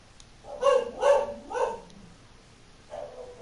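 A dog barks three times in quick succession, loud and close, and gives a softer fourth bark a moment later in an otherwise quiet room.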